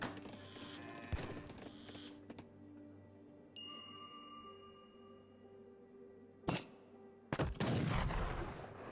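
Age of Empires 3 gunfire as a polar bear is sniped: a couple of sharp, loud shot bursts near the end, over a low, steady in-game ambience.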